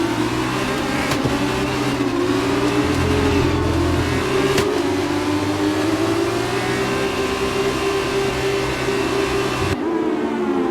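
Formula 2 cars on the wet grid at Great Britain in F1 22 hold a loud, steady engine rev, a close, droning whine with slight pitch swells, ending in a sharp cut.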